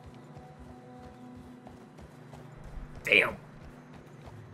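A horse's hooves clip-clop at a trot across snowy ground in the Red Dead Redemption 2 video game. The steady hoof rhythm sits quietly under game ambience. A man mutters once, and a brief louder whoosh cuts through near the end.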